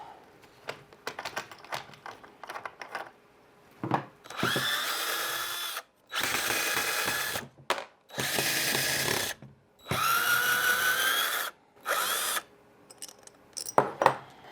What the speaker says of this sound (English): Now I've got to unscrew this.